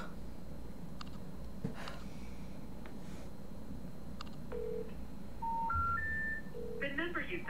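Keypad tones from a phone number being dialed: a quick run of short stepped beeps near the end, following a few faint earlier blips over a steady background hum.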